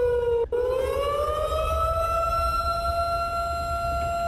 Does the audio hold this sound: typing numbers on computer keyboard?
no